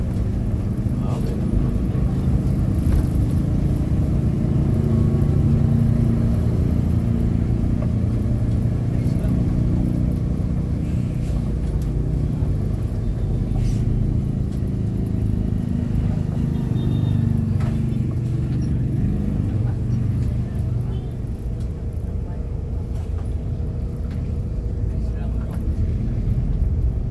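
Road traffic in Ormoc City, a steady low rumble of car and vehicle engines passing and idling, continuous and fairly loud, with people talking in the background.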